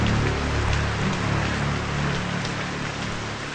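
Steady, heavy rain pours down in a dense, unbroken hiss that stays loud and even throughout, with no voices.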